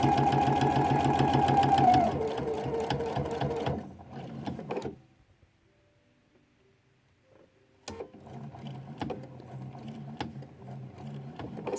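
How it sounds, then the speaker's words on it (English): A sewing machine stitching binding onto a quilt runs in a fast, steady whir for about four seconds, then stops; quiet follows, and light handling clicks and taps come after. "And sew down to the pin."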